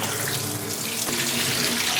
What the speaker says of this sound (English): Got to give it a good wash.